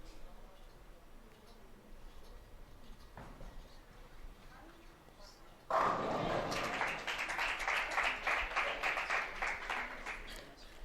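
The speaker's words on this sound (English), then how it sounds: "Lots of clapping down there." Spectators clap at a women's bowling tournament, the USBC Queens match play, a dense burst of applause starting abruptly mid-clip and carrying on steadily after a stretch of quieter arena ambience.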